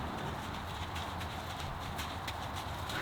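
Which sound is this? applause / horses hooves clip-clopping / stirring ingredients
horses hooves clip-clopping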